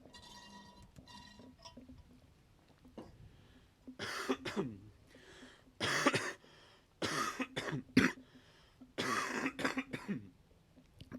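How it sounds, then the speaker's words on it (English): A man coughs in several harsh, wet bursts with throat clearing, grouped in separate fits across the stretch after a quiet start, close and fairly loud, amid what sounds like smoking. "Oh, I don't like this cough."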